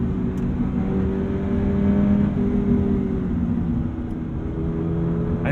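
The engine of a 2022 Toyota GR86 drones and hums steadily from inside the cabin under throttle, with a low rumble, faint rising tones and no talking.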